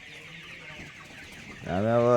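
Colored fowl chicken clucking close by, a short harmonic call rising at the end after soft background noise; a person speaks briefly.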